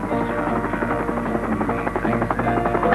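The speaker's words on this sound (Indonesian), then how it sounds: "Dan tim helikopter sangat berjasa dalam usaha membawa barang-barang untuk kami." Close, sustained rotor thumping and turbine drone from a helicopter ferrying supplies in mountainous Papua, holding steady at high volume.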